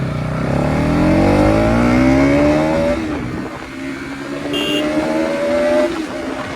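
A Bajaj Pulsar NS200 motorcycle pulls away and accelerates hard, its engine note climbing steadily through a rev sweep before easing off and rising again, loud and close with wind rush and no talking.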